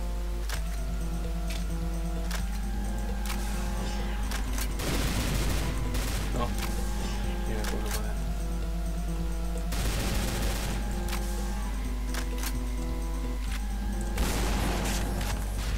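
Repeated heavy cannon blasts from the behemoth cannon in a Doom mod on the TNT Evilution map, fired in bursts over a steady game music bed with clattering impacts between shots.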